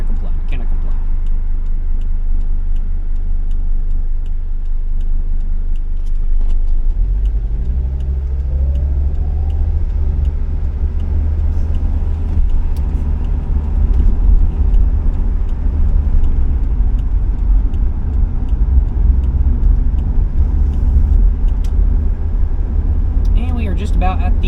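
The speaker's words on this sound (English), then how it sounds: "having a good time driving my 1980s diesel Mercedes on a wet day" A 1980s diesel Mercedes car drives along a wet road with a steady low engine rumble and tyre hiss, swelling as it accelerates partway through, heard continuously from inside the car.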